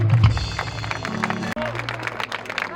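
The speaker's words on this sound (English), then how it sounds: "please have a huge round of applause for you all" Audience applause at a school alumni reunion event, a steady wash of clapping from a crowd that runs throughout, with some voices mixed in.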